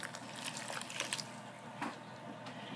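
Water poured into a mixing bowl while making twisted pizza strip dough, a soft steady trickle and splash lasting a few seconds, close and quiet with no talking.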